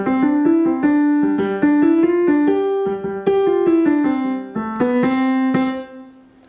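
A piano plays a beginner piece at a fast tempo, with quick melodic notes over sustained bass in a steady, lively rhythm that sounds close and clear, with no talking.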